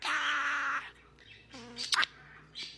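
A pet parrot gives a loud, harsh squawk followed by shorter chirps and calls, close to the microphone, with quiet gaps between the bursts.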